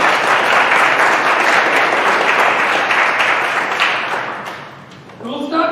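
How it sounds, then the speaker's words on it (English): A conference audience at a biowearables event at Santa Clara University gives panelists a sustained round of applause that slowly fades, and a voice starts speaking as it dies away. "Let's please welcome our panelists with a round of applause."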